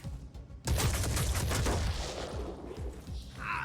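Soldiers opening fire in Phoenix Point, a sudden burst of rapid gunfire kicking in after a quiet start, dense rattling shots for a couple of seconds then trailing into scattered reports and combat noise.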